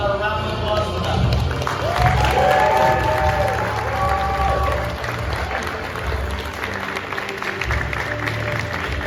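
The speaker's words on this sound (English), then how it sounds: "About a round of applause for them." Audience applause at a San Diego Comic-Con 2023 convention panel, with a sustained wash of clapping and some cheering from a large crowd, mixed with voices and a bright tonal sound.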